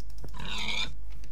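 Short pig grunts and squeals from small pigs in a block-building video game, a clear close burst of about half a second with a brief lower grunt before it.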